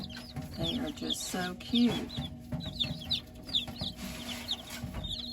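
Baby chicks peep in rapid, high chirps scattered across the clip, close and fairly loud, with a soft hen-like cluck; someone talks over them briefly.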